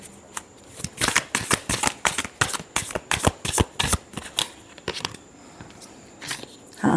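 A deck of tarot cards being shuffled by hand, a rapid series of crisp riffling bursts in an uneven rhythm, close and fairly loud, with no talking.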